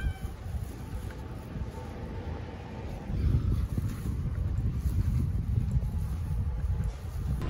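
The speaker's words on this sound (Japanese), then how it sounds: "猫多いな、めっちゃ寄ってくるわ。" Cats meow repeatedly on a street in Nishinari, fairly close, over a steady rush of wind buffeting the microphone.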